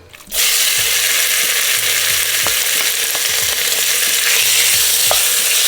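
Bacon frying in a hot pan: a loud, steady sizzle starts abruptly and holds throughout, with occasional light scrapes and clicks of a utensil over it.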